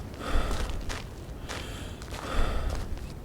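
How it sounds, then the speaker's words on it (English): A character in the Rancher video game pants from exertion, breathy gasps coming in a slow repeating rhythm of heavy breaths, close and moderately loud over a faint low background. "You can hear him panting away."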